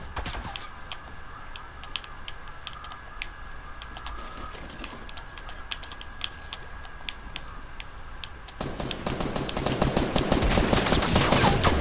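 Gunfire in the video game Fortnite: rapid crackling shots rattle on steadily at a moderate distance, then swell into a louder, denser barrage toward the end.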